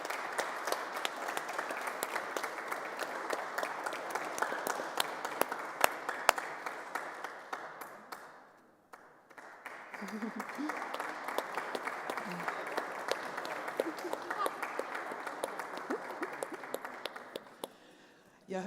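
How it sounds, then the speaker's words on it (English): Audience applause at a conference on election management bodies, a broad wash of clapping that dips briefly midway then swells again, with a few individual claps standing out and some voices faintly beneath. "Your clap is not commensurate with the work that has gone into it"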